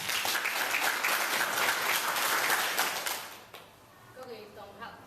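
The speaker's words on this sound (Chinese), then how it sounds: "咱用同热烈的掌声来甲拍一下" An audience claps warmly at an outdoor cultural night market in Yilan, Taiwan, after a Taiwanese-language classical poetry chanting performance. The dense, close applause lasts about three seconds, then quickly fades to scattered claps and quiet.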